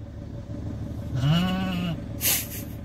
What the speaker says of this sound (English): a stubborn sheep with big horns